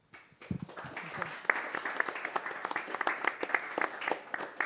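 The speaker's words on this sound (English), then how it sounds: "thanks with a round of applause from our side" An audience at a panel event on EU cybersecurity breaks into applause, starting from a few scattered claps and building into steady, moderately loud clapping from a modest crowd in a hall.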